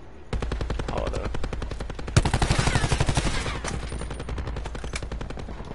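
Automatic weapon fire in the Black Ops 4 video game: long, rapid, loud bursts of evenly spaced shots that continue almost without pause, with a brief heavier blast partway through.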